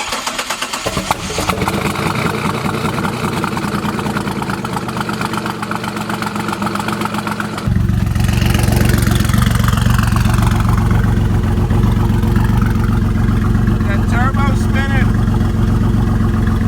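A twin-turbo 3800 Series II V6 in a Camaro project car runs at a loud, rough idle up close, its steady churning drone stepping up to a heavier, fuller level about halfway through.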